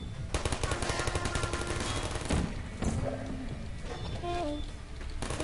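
Rapid automatic turret gunfire from the Portal video game rattles in dense bursts, loud and close, with brief pauses and sharp clicks between volleys.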